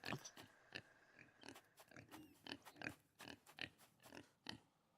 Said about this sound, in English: I hear a pig.